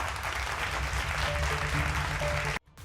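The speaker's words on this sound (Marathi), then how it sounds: "एकदा जोरदार टाळ्या त्यांच्यासाठी झाल्याच पाहिजेत" An audience at an awards ceremony claps steadily and energetically for a few seconds before the applause cuts off abruptly.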